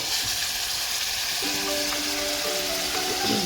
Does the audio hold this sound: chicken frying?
yes